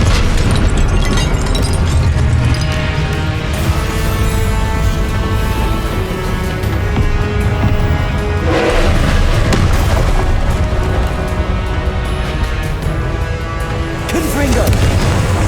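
Confringo fire spells burst one after another during a spell-casting fight in Hogwarts Legacy, a loud, continuous wash of blasts over a sustained musical score.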